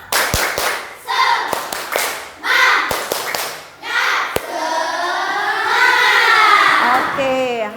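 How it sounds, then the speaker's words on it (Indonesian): Students in a classroom do a patterned spirit clap, sharp claps falling in a rhythmic sequence with short pauses, ending in a burst of children's voices chanting and shouting. "Tepuk semangat."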